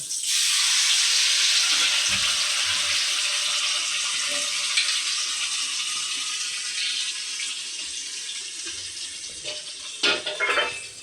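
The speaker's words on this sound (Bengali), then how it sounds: "আমার এটা তেলটাও গরম হয়ে গেছে, এবারে আমি পটল বাটাটা মধ্যে দিয়ে দেব।" Pointed gourd paste hits hot oil in a pan with a sudden loud burst of sizzling that roars steadily and fades only slightly over ten seconds, close, ending with a few scraping stirs.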